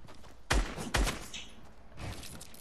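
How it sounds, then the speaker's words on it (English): Gunfire from a minigun in Fortnite erupts in two sharp, heavy bursts about half a second apart, then a softer rattling burst follows, close and punchy in a brief game moment. "I'm gonna minigun them."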